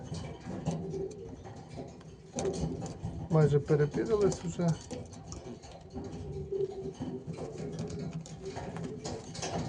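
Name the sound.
pigeons for sale cooing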